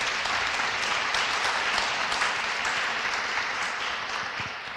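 An audience at a live podcast recording in Nancy claps in a steady, dense wash of applause, moderately distant, continuing throughout with no talk over it.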